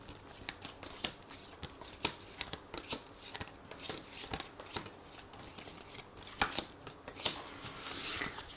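Oracle cards are shuffled and drawn for a card reading, giving close, quiet riffling and flicking with rapid papery slaps in uneven bursts and no talk.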